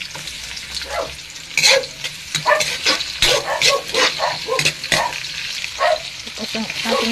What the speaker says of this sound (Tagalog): Gigisa po tayo ng bawang.